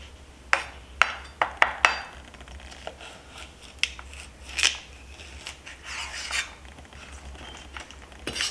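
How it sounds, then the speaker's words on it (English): A knife trims the top off a baby zucchini on a cutting board in a kitchen, giving a few sharp, close taps and cuts followed by softer rubbing and shuffling sounds. "I'll trim off the top of the baby zucchini."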